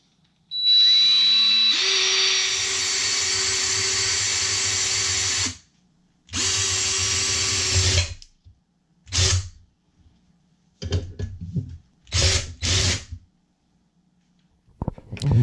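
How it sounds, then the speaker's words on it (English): Power drill boring into the center of a metal can, with a long close whine, a second long run, then several short bursts with pauses between. "that drill actually did not work"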